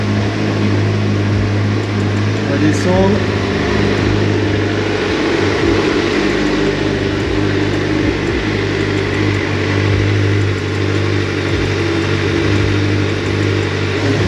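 A Suzuki GSXR four-cylinder motorcycle engine idles steadily and close by, a smooth continuous hum with a few small throttle blips, while a voice briefly speaks over it.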